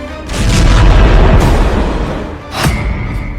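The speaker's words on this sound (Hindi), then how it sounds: "ईरान और इजराइल की जमीन धमाकों से धधक रही" A heavy explosion in the Iran–Israel war: a loud, deep boom rolling for about two seconds, followed by a second, shorter blast and crackling debris, with no talking.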